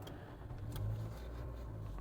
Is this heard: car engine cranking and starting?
yes